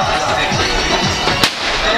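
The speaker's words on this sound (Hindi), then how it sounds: "पटाखों की आवाज सुन सकते हैं आप लोग" A dense, continuous crackle of small firecracker pops with one sharp louder bang partway through, over steady outdoor noise, at a mountain wedding in Uttarakhand.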